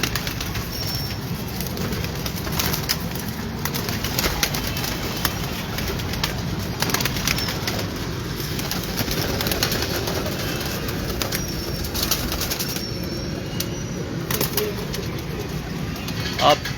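Breeder's flying pigeons on a Lahore rooftop give soft, continuous cooing and occasional wing flaps over a constant outdoor background, with a voice speaking at times.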